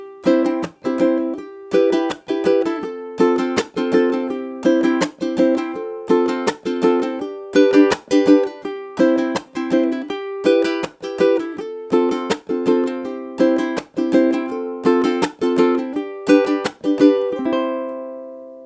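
Ukulele strummed in the island strum pattern, a bright, close, rhythmic run of down and up strokes repeating steadily for the whole stretch, alone with no voice.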